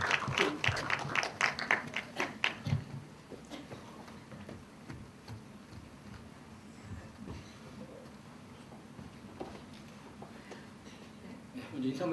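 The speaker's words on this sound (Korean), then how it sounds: "박수 좀 부탁드리겠습니다." Scattered clapping from a small audience at a short-film screening Q&A, strongest in the first few seconds and then thinning to a few claps over low murmuring voices.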